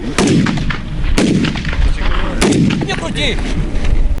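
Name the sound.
machine gun firing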